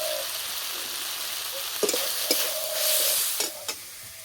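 Ground turmeric, cumin and chili powder fry in hot oil in a pan, a steady close sizzle broken by a few sharp scrapes and knocks of the stirring spoon, with no talking.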